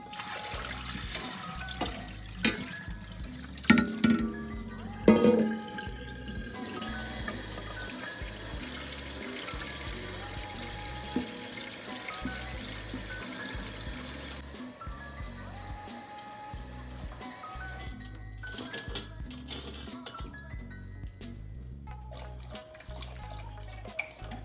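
Tap water runs into a dog's water bowl, starting with scattered drips and splashes. A steady, soft stream follows, then trickles again near the end, quiet and close.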